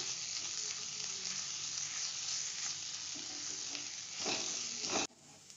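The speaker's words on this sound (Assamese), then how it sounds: "মই আদা নহৰু পেষ্টটো ভালকে ভাজি লম" Ginger-garlic paste frying in oil for an Assamese-style pork dish gives a soft, steady sizzle with faint stirring. It swells slightly near the end, then cuts off abruptly.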